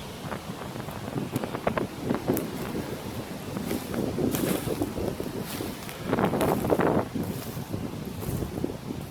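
Strong gusty wind buffets the microphone in loud, uneven roaring bursts outdoors by a wood's boundary with farm fields in England, with no other sounds standing out.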